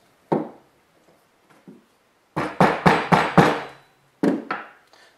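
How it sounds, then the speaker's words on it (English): Dull wooden taps from a rubber mallet on a wooden wand stick, a few isolated strikes then a quick run of five, followed by two more, close and fairly soft. "take my rubber mallet, just make a little bit of a dent"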